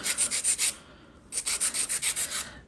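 A nail file works over hard gel stiletto nails in quick rhythmic rasping strokes, a burst of about six, a short pause, then a longer run of close scratchy passes.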